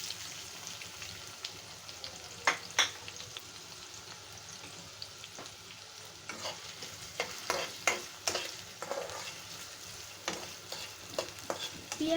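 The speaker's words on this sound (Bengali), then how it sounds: "পেঁয়াজটাকে একটু লাল লাল করে ভেজে নিব।" Chopped onion fries in hot oil in a frying pan with a soft steady sizzle, broken by frequent sharp scrapes and clicks as it is stirred, close and moderately quiet.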